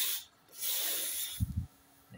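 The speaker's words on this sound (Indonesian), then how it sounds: "semprot pakai cleaner" Aerosol cleaner is sprayed onto a motorcycle fuel injector part during a Yamaha Mio M3 repair. Two steady hissing bursts come close by, then a brief low rubbing handling noise follows.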